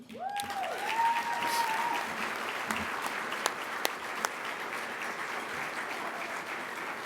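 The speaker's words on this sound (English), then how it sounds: "join me in another round of applause for Kelly, and thank you for your efforts fo" Luncheon audience at a volunteer awards event breaks into steady applause, a dense wash of clapping with a few sharp nearby claps, briefly overlapped at the start by a voice.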